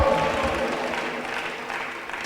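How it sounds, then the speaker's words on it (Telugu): A church congregation at a pastors' meeting claps in a short burst that fades within about two seconds, with a voice faintly present. "గట్టిగా చప్పట్లు కొడదాం."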